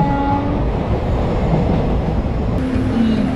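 An Ernakulam to Thiruvananthapuram train runs at speed, its wagons rumbling loudly and continuously up close, with faint horn-like tones in the background.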